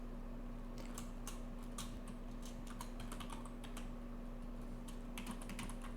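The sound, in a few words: typing code on a computer keyboard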